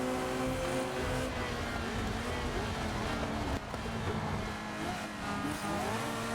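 Race cars in the Solar Crown racing game, a Corvette among them, roar past in a dense, steady engine wash with wind noise, loud and continuous, with a brief dip midway.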